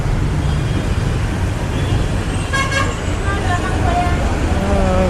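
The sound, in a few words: bus entering Vijayawada bus station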